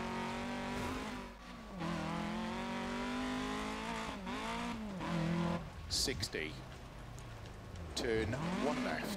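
A rally car in Dirt Rally 2.0 revs hard while its tyres squeal and skid through a handbrake turn, with engine pitch rising and falling. A co-driver voice calls pace notes over it.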